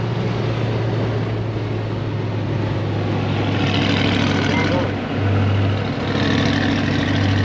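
A car engine running in fourth gear, a steady loud drone with a low hum beneath road noise inside the cabin; speech is faint or partly masked.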